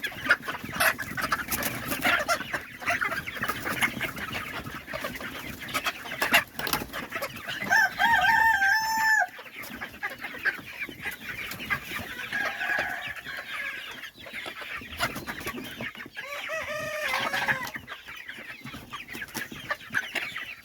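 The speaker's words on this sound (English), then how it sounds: "So these are the Polish chickens." Polish chickens clucking and crowing in a crowded coop, with busy overlapping clucks, scratchy rustling and two or three drawn-out, wavering crows rising clearly above the flock.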